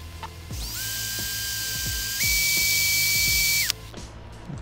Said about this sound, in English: I'll see if they'll even drill a hole in this steel here.